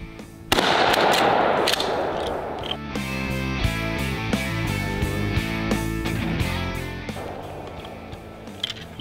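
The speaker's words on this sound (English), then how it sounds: "now I'm gonna shoot at the other side of that target, just on the left side of it, and we'll see what it does" A shotgun fires a cut-shell at an outdoor target. A loud blast opens the clip and is followed by a dense stretch of rattling, sharp pops and clicks that go on to the end.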